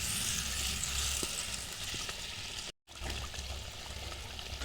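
Pomfret fish goes into boiling curry broth, giving a soft, steady sizzle and bubbling simmer at low volume, with a brief silent break partway through.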